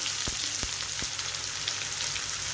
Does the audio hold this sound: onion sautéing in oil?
yes